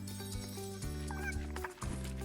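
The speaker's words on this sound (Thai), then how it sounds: "ไก่กุ๊กกุ๊กกุ๊กกุ๊กกุ๊ก ถ้าเราเลี้ยงเราจะได้ไข่ไก่นะ" A chicken in the video game Lego Fortnite gives rapid, throaty clucking calls in short bursts, fairly loud and layered over the game's steady background sound.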